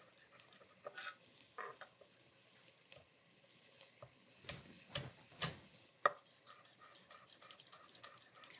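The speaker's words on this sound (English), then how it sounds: "Just give them a little smash and then slice right into them." Knife slicing smashed garlic cloves on a cutting board in a kitchen, a few faint scattered taps and cuts, quiet and close with pauses between strokes.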